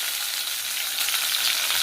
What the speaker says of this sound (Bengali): পেঁয়াজ কুচিটা ভেজে নেব।